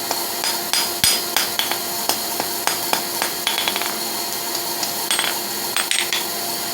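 Hot steel taper hammered on an anvil during blacksmith forging, a steady series of sharp ringing metallic strikes, close and loud, with no talking.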